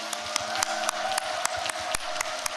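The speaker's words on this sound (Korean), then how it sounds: "크게 박수로 환영해 주세요" Applause in a church service hall, a light, steady patter of clapping heard from some distance with sharper individual claps standing out at irregular intervals.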